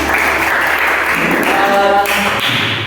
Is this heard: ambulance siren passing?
no